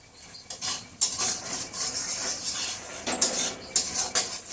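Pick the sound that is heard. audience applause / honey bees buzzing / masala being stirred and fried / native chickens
masala being stirred and fried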